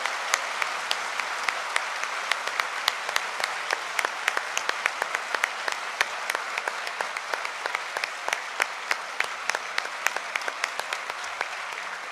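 Audience at a Pakistan literature festival poetry session clapping at length: a dense, continuous round of applause with sharp individual claps popping out irregularly, sustained and fairly close over the whole stretch.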